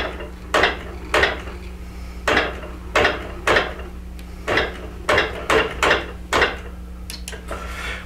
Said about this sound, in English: I have my machine on its basting function, and so I'm just going to slowly baste around the edge of the quilt